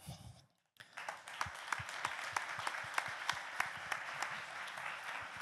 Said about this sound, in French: je pense qu'on peut les applaudir et vous remercier d'avoir joué le jeu